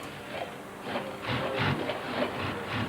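Sewing machine running fast while stitching up an inside-out leg, a dense rapid mechanical whirring and chattering that swells and holds steady, fairly close with no speech over it.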